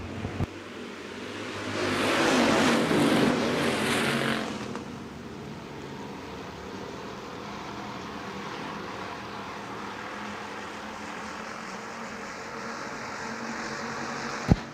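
Stock cars and hobby stocks racing on the dirt track at Shelby County Speedway make a loud, rising engine roar that swells past over the first few seconds, then settles into a steady distant drone of the field for the rest.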